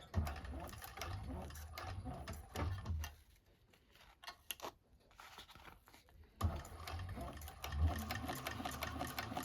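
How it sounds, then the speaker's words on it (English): A sewing machine back stitches a bag seam, running in busy rhythmic mechanical bursts that pause and soften in the middle before the machine runs again, close and steady. "holding your threads, back stitching at the beginning and end"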